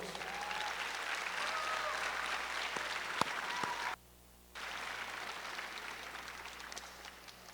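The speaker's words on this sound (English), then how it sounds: "Let's give them a round of applause." Applause fills a high school commencement ceremony, a steady roar of many clapping hands with a low hum beneath, cut by a sudden half-second dropout before the clapping resumes at the same level.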